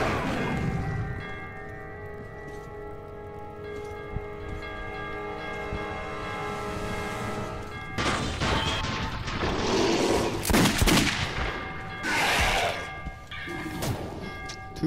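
Gunfire in the video game Metro 2033 in a subway station, heard as sharp crashing bursts over the last seven seconds, after a sustained ringing, bell-like tone.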